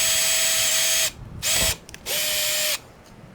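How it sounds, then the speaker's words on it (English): A power drill boring a hole through the hull of an Emotions Stealth 11 kayak: three close, loud whining bursts, the first about a second long, a short middle burst, then a longer final run, with quiet pauses between. "Next, go ahead and drill out the second hole."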